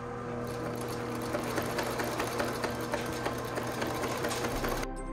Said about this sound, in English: pinning and sewing the front onto the bag as well.